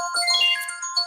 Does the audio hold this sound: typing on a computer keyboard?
no